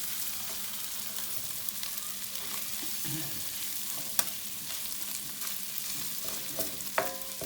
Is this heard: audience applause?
no